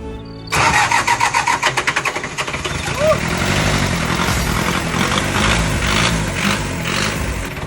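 An old forklift engine, unused for a long time and primed with cold-start fluid, cranks in a quick rapid rhythm for about two seconds, then catches and settles into a loud, steady, rough idle up close.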